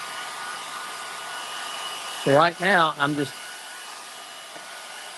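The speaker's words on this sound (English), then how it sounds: "let me have the Hair dryer?" A hair dryer blows steadily over stained wood finish samples, giving a constant whooshing hum throughout. A person speaks briefly over it.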